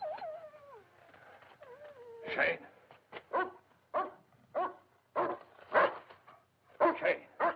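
A dog barks in a series of sharp, separate bursts that come close and loud in a tense scene from the 1972 horror film Tales from the Crypt, following a few whining, wailing tones.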